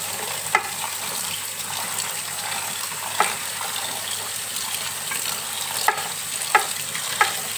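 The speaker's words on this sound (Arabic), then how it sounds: "دلوقتي بنغسلها بقى تحت، بصوا هنغسلها غسله حلوه قوي" Green beans are washed under running tap water, a steady hissing stream with occasional splashes and brief louder clatters as the beans are handled, close and continuous.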